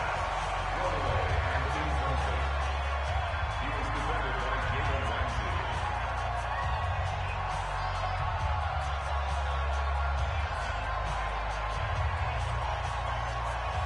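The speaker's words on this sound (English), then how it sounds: "The crowd here in the Dome making things difficult." Stadium crowd noise from a football video game on PS4, a dome crowd during a goal-line sequence, heard as a steady, dense roar throughout under continuous play-by-play commentary.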